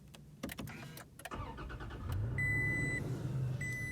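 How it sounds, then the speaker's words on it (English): A 2020 Toyota Tacoma TRD Sport is switched on: a few clicks and dashboard chimes come first, then the engine cranks and settles into a steady idle. Repeated warning beeps ring out over the running engine. "you want to put your foot on the brake, and you're going to go over here and you're going to turn it on"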